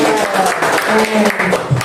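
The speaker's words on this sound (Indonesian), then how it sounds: "Tanda tepuk tangan." Applause from a group in an Indonesian-language classroom lesson, a dense, steady clatter of hands lasting about two seconds, with voices mixed in underneath.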